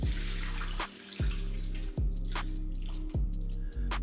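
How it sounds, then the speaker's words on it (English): Water drained off a pot of green beans, a close watery pour with repeated sloshing bursts and dripping. Strong low gurgles recur about every second, with splashy spatters between them. "the last thing we're gonna do is drain this water off."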